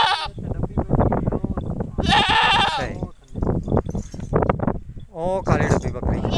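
Young Beetal goats bleat in loud, close, wavering cries, two distinct calls standing out among shuffling and handling sounds.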